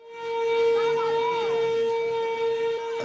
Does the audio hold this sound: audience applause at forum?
no